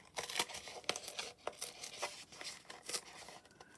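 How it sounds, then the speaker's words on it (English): Scissors cut around a paper circle for a junk journal page, making a series of close, crisp snips and papery crackles in an uneven rhythm, with no voices. "I'll go around it with the scissors"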